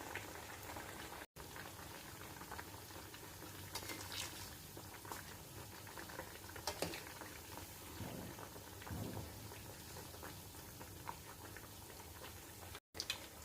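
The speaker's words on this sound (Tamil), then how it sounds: "இனி ஃப்ரை பண்ணி எடுக்கணும் இப்படி போடுங்க ஃப்ரை பண்ணி எடுக்கணும்" Potato bites deep-fry in hot oil with a faint, even bubbling crackle like light rain, plus a few soft utensil knocks and two brief dropouts in the sound.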